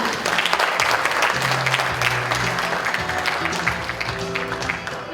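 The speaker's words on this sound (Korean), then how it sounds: "큰 박수로 모시겠습니다" Steady, loud applause from an audience at a Korean ocean-industry lecture event fills the room for several seconds as a company CEO is welcomed to the stage, with dense clapping throughout and no talk.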